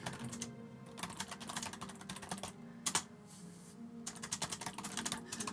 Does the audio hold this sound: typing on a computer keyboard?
yes